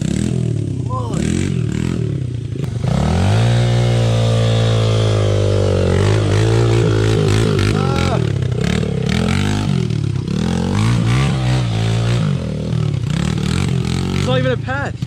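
A dirt bike engine revs and labors loudly up close as the bike rides through dirt and mud on a woodland trail. The throttle rises and falls, with scraping and clattering over it and speech throughout.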